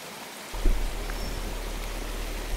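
Heavy rain pours at Kawah Mati crater, a dense steady hiss that starts abruptly after a brief quiet moment and continues evenly, close and loud, with no voices.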